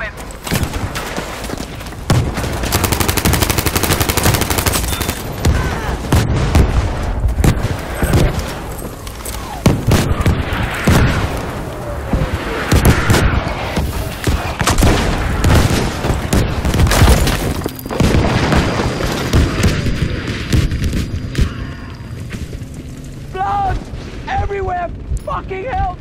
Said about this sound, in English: a request for an artillery barrage. Your request granted. It's coming.